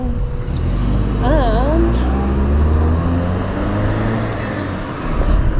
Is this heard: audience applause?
no